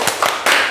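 A small group of teachers at a school workshop in Palembang gives a short patterned spirit clap, a few sharp claps followed by a louder burst, close by, with no talk over it.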